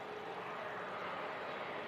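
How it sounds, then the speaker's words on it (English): Singapore Airlines A350 departing Manchester Airport, a steady broadband jet roar that holds level and loud throughout the short stretch, with no voices over it. "here is the beautiful Singapore 350 heading out to Houston"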